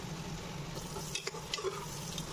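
Onions and garlic with a little salt and turmeric fry in a pan for a Bengali mutton curry, a steady close sizzle with a few soft scraping stirs near the end.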